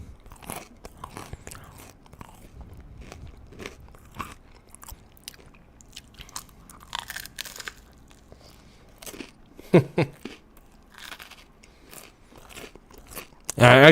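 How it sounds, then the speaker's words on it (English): Food crunches between the teeth up close in scattered, uneven bursts, quiet at first and then sharper, with a voice briefly sounding near the end. "I want you guys to hear that fucking crunch"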